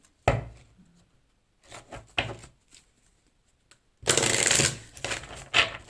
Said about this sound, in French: Allez, on va prendre une petite carte chacun.